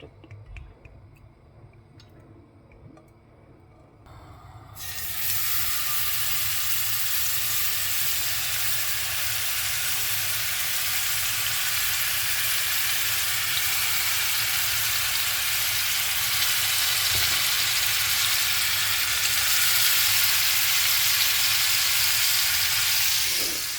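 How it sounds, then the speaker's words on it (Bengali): Silver carp fish frying in hot oil in a pan, starting quietly and then bursting into a loud, dense, continuous sizzle that holds steady to the end, no talking. "এখানে আমি মাছ ভাজি করব"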